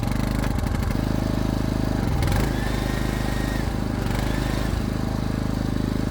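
A portable generator's small engine, which runs but gives no electrical output, chugs loudly and steadily nearby with a rapid pulsing beat and a few brief clanks.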